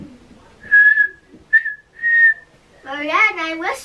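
A person whistles several short, clear tonal notes, then a longer warbling phrase, close and alone.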